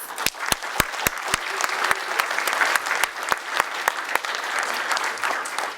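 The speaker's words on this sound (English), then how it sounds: "let's give a great round of applause to our presenting sponsor" An audience applauds steadily, a dense wash of clapping with a few sharp, close claps standing out, sustained throughout.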